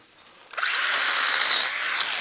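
A STIHL GTA 26 battery garden pruner, a small chain saw, starts abruptly after a quiet moment and buzzes steadily at high pitch as it cuts through a branch, close and fairly loud.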